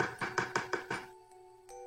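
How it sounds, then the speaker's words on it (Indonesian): Five sharp, evenly spaced knocks rap on window glass close by in a quick regular rhythm, then stop, leaving a faint ringing hum in near silence. "terdengar suara ketukan di kaca jendela"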